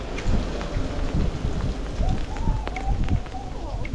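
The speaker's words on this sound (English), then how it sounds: "Yes, it's been hail." Hail falling on the ground during a cold-weather ride toward snow, a dense, steady patter of small impacts close by, with a low rumbling background throughout.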